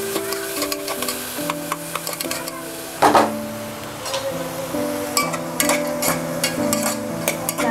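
Ginger, green chili and garlic sauté in a pan for veg pulao, a soft sizzle under repeated wooden spoon stirs and scrapes, with a melodic tune playing over the cooking.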